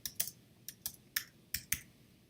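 Keystrokes on a computer keyboard as a short message is typed, seven or so crisp clicks in an uneven rhythm, close and clear over a quiet background hum.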